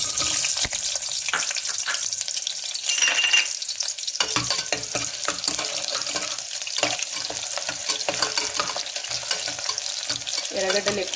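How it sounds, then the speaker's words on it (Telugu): Sliced onions frying in oil in a pan for a ridge gourd fry, a steady crackling sizzle with repeated scraping stirs, close and continuous with no voices. "ఇప్పుడు ఎర్రగడ్డలు వేసుకుందాము."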